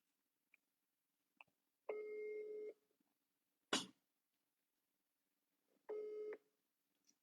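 Telephone call tones on the line: a long ringback buzz, a sharp click, then a second ringback tone, separated by near silence as someone is called.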